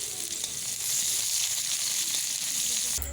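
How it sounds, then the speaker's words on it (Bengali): Chopped onion hits hot mustard oil already seasoned with bay leaf and five-spice, giving a loud, even sizzle up close that ends with a brief clatter. "এরপর দেব পেঁয়াজ কুচি আমি ভালো করে ভেজে নেব।"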